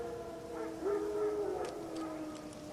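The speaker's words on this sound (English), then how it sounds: "Wild dogs. Yes. More dangerous than wolves." Wild dogs howling in The Witcher 3 game world, a drawn-out mournful howl rising over a soft ambient bed, distant and moderately faint, with a few short yelps trailing after.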